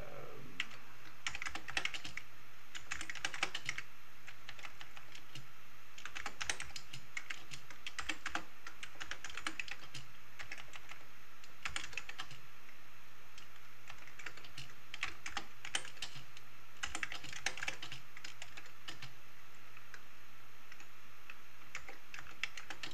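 Computer keyboard typing while writing in the Final Writer word processor on an Amiga, a steady run of light, quick key clicks in uneven bursts, close and alone with no talk.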